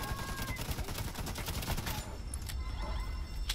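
Rapid bursts of automatic gunfire in The Division 2, loud and close, rattling for about two seconds before thinning into scattered shots and echoes.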